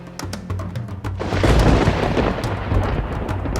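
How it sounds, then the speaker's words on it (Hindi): Thunder rolls and booms through a steady wash of rain, with a deep rumble building and lingering over the downpour. "बारिश और तूफान थमने का नाम ही नहीं ले रहे थे।"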